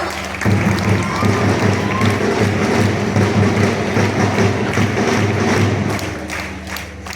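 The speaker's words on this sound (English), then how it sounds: "Children, a great round of applause." Children give a round of applause at a school alumni function honouring a doctor guest: a sustained, roomy wash of many hands clapping over a low steady hum, fading near the end.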